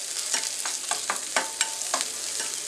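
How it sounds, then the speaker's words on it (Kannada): Chopped onions fry in hot tempering oil for a horse gram rasam, giving a close, steady sizzle with irregular scraping and clinking as a spoon stirs the pan. No one speaks. "ಒಂದು ಸ್ವಲ್ಪ ಒಗ್ಗರಣೆಯಲ್ಲಿ ಫ್ರೈ ಆಗಲಿ ಈರುಳ್ಳಿ ಎಲ್ಲ."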